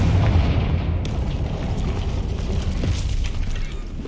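Loud, dense booming rumble of a Confringo fire spell blast in Hogwarts Legacy, a sustained explosive roar with crackling debris filling the whole moment, no talk over it.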